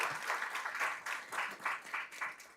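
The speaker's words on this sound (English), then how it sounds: "Another round of applause," An audience at a safeguarding and child protection workshop applauds: a brief, fairly soft patter of clapping with an uneven, pulsing rhythm as hands come together at slightly different times.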